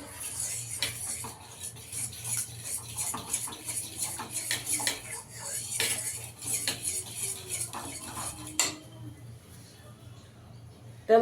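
A spoon scrapes and clinks steadily against a bowl while semolina batter with an egg is mixed, repeated close taps and scrapes in an uneven rhythm over a low steady hum, ending in a sharper knock.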